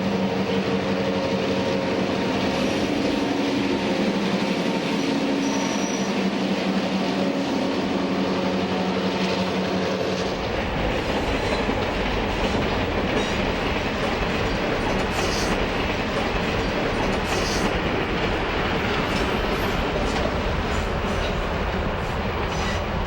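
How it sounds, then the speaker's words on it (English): The New York Central passenger train number 6, the Fifth Avenue, departs Central Union Terminal, its diesel locomotives rumbling and then giving way to a steady, loud clatter of passing cars and rolling wheels. "Departing Central Union Terminal, NYC passenger train number 6, the Fifth Avenue, is sporting the modern cigar band Herald on the locomotives."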